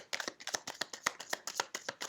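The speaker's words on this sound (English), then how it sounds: "Give it a good shuffle now." A deck of cards is shuffled by hand in quick, crisp bursts of riffling and tapping, a dozen or so close, dry flutters with no talking.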